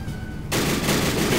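Gunfire in the World War I strategy game Battle Academy WW1 erupts midway as a sudden, loud, dense burst of rapid shots that continues steadily to the end, with no talk.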